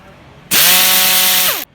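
Loud air ratchet spinning off an 8mm bolt on a Ford Mondeo Mk5 2.0 diesel camshaft carrier, one continuous high whine lasting about a second, rising in pitch at the start and dropping away at the end, close and alone.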